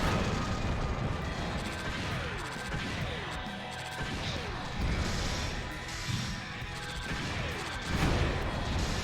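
Rapid gunfire shots in the Omega Boost video game, with dense repeated blasts and crashes over a busy, loud mix of game effects and music.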